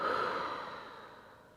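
A single soft, breathy exhale during a yoga session, close and quiet, trailing off gradually over about a second and a half with no talking.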